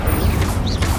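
Confringo and Incendio spell blasts from the Hogwarts Legacy video game on Hard difficulty, a quick pair of sharp impacts amid steady battle rumble.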